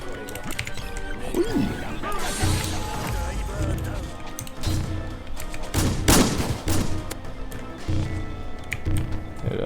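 Gunfire in a Roblox game, rapid bursts of shots and crashes scattered across the clip, loud and close, mixed with excited players talking over the action.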